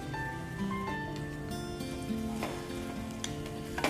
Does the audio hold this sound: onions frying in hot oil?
yes